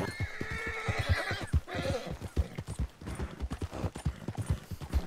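Horse in Red Dead Redemption 2 whinnying loudly near the start, with a steady clip-clop of hooves running underneath for the whole stretch, close and prominent.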